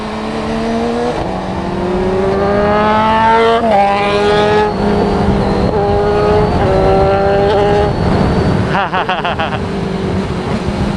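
A Kawasaki Ninja 1000SX in road mode accelerates hard with its front lifting and traction control cutting in. The engine screams up through several gears in rising pitch sweeps with brief shift dips, then drops off near the end.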